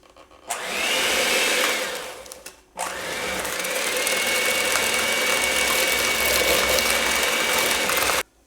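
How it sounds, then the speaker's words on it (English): Electric hand mixer beating butter and sugar for a cake, a loud, steady whirring drone that starts, cuts off briefly, then resumes and runs steadily before stopping, with no talking. "We're going to mix the butter and the sugar with an electric mixer until creamy."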